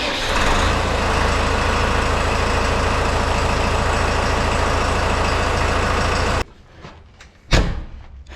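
A tractor engine runs steadily, close and loud, for about six seconds, then cuts off, and a single brief knock follows in the quiet.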